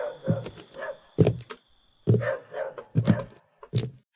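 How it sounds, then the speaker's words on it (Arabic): Dogs barking in a horror video game, several sharp barks in uneven bursts with short pauses between them, moderately near and fairly clear. "في صوت كلاب يا اسطى"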